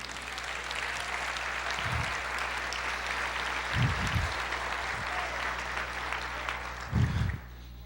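A church congregation applauds loudly and continuously, a thick wall of clapping that fills the whole stretch, with a few low thumps and rumbles breaking through now and then.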